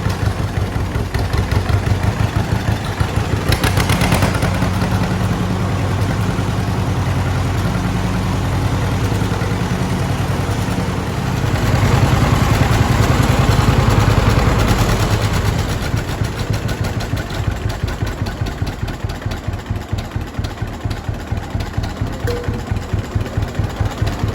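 A vehicle engine with a manual clutch and gearbox shifts into second gear and runs on steadily, a close, continuous low rumble that swells briefly midway before settling back.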